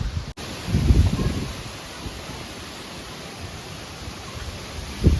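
Wind gusts buffet the microphone in low rumbling bursts over a constant rushing hiss, strongest early and again at the end.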